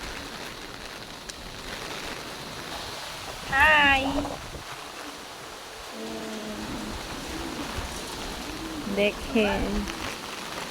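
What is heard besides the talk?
wind and rain during Cyclone Remal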